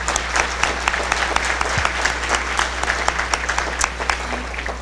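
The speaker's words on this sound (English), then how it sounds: "Let's give them a round of applause here." A breakfast crowd at a San Jose legislative event claps steadily for the sponsors, a dense, even patter of many hands lasting several seconds with no speech over it.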